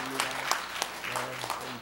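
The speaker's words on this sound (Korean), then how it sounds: "이렇게 박수 한 번 더 해주세요." A church congregation applauds members called to the front, the clapping moderately loud and steady beneath a voice speaking over it.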